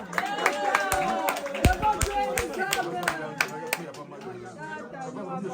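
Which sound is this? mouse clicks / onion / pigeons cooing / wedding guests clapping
wedding guests clapping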